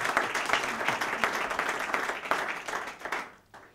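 A panel discussion audience claps loudly in sustained applause that continues for several seconds before fading away at the end.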